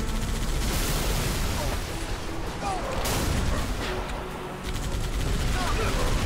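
Halo 3 video game battle with continuous heavy gunfire and explosive booms around a Warthog vehicle, loud and relentless throughout, with a voice talking over the combat.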